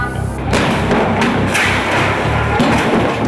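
On a freeway film set for Battleship (2012), a stunt shredder vehicle crashes down onto a car, giving heavy continuous rumbling and thudding impacts, loud and close throughout, with no talk.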